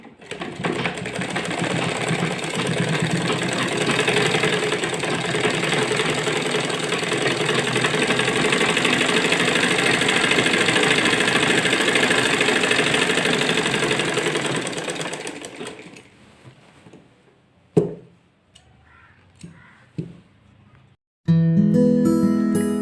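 A sewing machine runs steadily for about fifteen seconds, stitching a salwar, a dense mechanical whir close by, then stops and gives way to a few short clicks and handling knocks.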